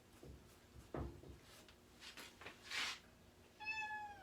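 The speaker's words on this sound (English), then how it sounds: "And I got cats talking to me." Indoor cat Bella meows a few times, short soft cries scattered among quiet household clatter, with a clear drawn-out meow near the end.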